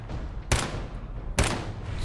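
Two sharp gunshots fired in the video game Fallout 4, spaced about a second apart, each a loud broadband crack with a low thump over a steady background rumble.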